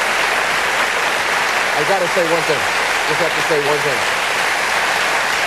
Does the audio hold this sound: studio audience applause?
yes